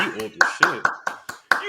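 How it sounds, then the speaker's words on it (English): Several sharp hand claps ring out in an uneven series during a podcast conversation, close and distinct, with someone speaking over the first ones. "Round of applause."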